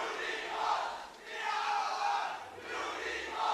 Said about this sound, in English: while the crowd may be going wild